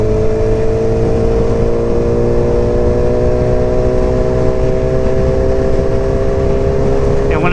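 Yamaha R1 motorcycle engine pulling steadily under throttle while riding, a continuous loud drone with harmonics slowly rising in pitch over a rushing wind and road roar throughout.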